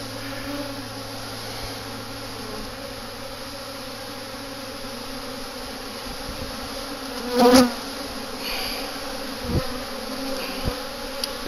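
A honeybee swarm being scooped into a hive drones with a steady, close, even buzz throughout, with a few brief handling knocks and no talking.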